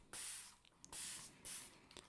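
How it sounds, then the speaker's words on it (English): A spray bottle mists water onto a painting canvas in three quick hissing bursts, each about half a second long, up close and soft, with faint trigger clicks between them. "I'm going to take a spray bottle and spray the canvas"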